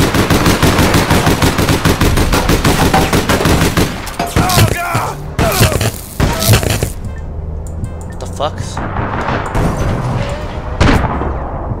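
Shotgun gunfire in the online shooter APB: Reloaded: loud, rapid blasts and cracks repeat densely through the first half, then thin into scattered shots over a continuous game background.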